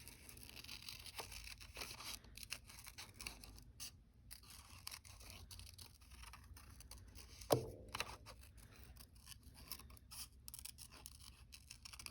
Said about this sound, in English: I'm going to quickly fussy cut around my girl here